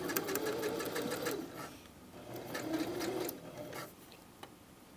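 A sewing machine runs a zigzag stitch, sewing skinny elastic onto swimsuit fabric, in two close, steady bursts of rapid stitching with a short pause between them and a faint stop near the end.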